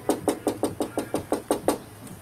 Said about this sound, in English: they're just knocking on the window